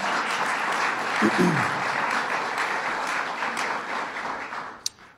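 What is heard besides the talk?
audience applause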